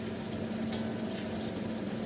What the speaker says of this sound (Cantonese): 慢慢煎下佢